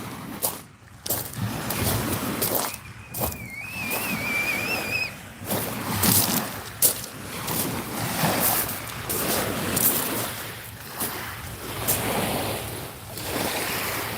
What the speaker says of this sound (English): listen some more of the ocean shore, of the sound of the wave beating against the phone